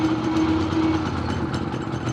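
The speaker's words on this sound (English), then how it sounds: "So now I've got the generator moving up to run on the dial." A Predator 3500 inverter generator runs with a steady, medium-pitched engine drone and a faint tonal whine, loud and close throughout.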